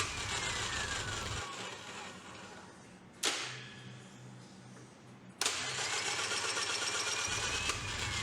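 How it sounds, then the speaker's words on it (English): A Hyundai HAT25 air circuit breaker trips manually amid a steady mechanical whir: a sharp clack strikes, the hum dips, then a second loud snap brings the running noise back up. "At first, we trip the breaker manually."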